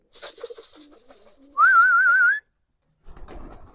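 A male pigeon on a farm gives a clear, close whistling coo of about a second, with a wavering tone, set between softer rustling and background noise.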